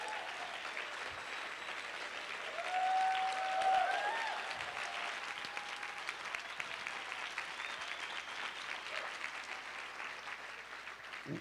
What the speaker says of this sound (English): can we give a huge round of applause for this?